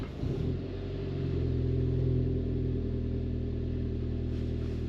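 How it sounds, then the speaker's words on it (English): A car engine cold-starts with a brief crank, then settles into a steady low idle rumble, close and fairly quiet, with no talking. "So if we start the vehicle up"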